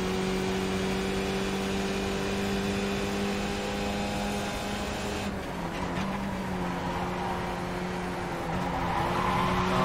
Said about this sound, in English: Every time I try to downshift there, it always kicks out the rear.